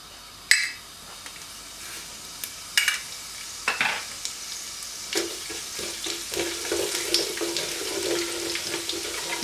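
Whole spices dropped into hot oil for Amritsari aloo, a sharp burst of sizzling followed by scraping stirs and a steady crackling fry that settles into a constant hiss, close and fairly loud with no talking.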